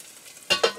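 Ham frying in a pan on a stove turned down a little, with quiet background before a sudden burst of close crackling sizzle that surges in two or three loud waves.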